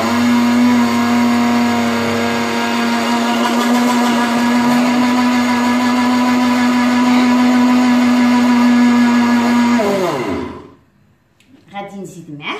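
A kitchen blender whirs loudly and steadily for about ten seconds while mixing homemade cheese ingredients with a glass of starch, then spins down and stops, leaving a brief clatter.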